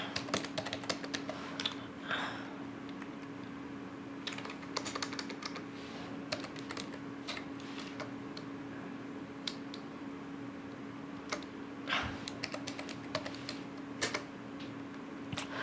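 Rapid keystrokes on a computer keyboard while code is entered in Android Studio, with close, steady clicking bursts running throughout and brief pauses between them, heard alone without talk.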